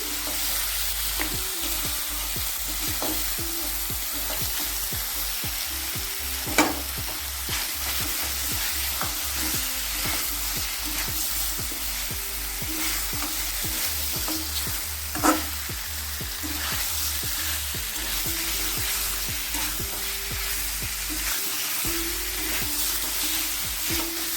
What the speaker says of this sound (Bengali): মশলাটা আমি এক মিনিট কষিয়ে নিয়েছি এবার দিয়ে দিচ্ছি পায়েগুলো পায়াটাও এবার সঙ্গে মিশিয়ে নিচ্ছি